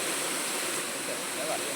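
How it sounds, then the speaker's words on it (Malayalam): Thoomanam waterfall in Wadakkanchery, Kerala, running in the monsoon season, gives a steady, broad rushing roar that fills the whole moment with no clear break. "തുമാനം വാട്ടർഫോളാണ്"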